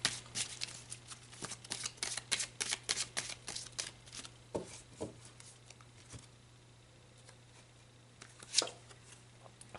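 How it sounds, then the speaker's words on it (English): Tarot cards are shuffled by hand in a quiet room, a close series of soft, rapid riffling slaps and flicks, then a few scattered taps and one sharper snap near the end. "let's pull some more cards"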